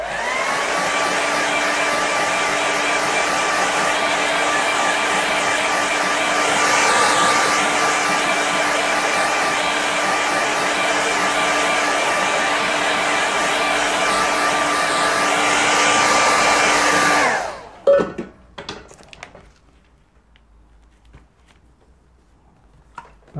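A hair dryer blows on a watercolour seascape painting, a loud steady whirring roar that runs for about seventeen seconds and then cuts off, followed by a few faint clicks and taps.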